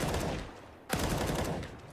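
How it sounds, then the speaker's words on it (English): Gunfire in the video game CS:GO during a professional match, with rapid shots through a wall, a sharp loud crack partway through within dense game noise, and no voices. "2 wallbang bullets connect."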